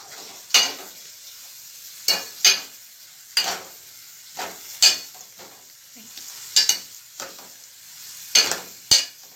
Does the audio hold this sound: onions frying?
yes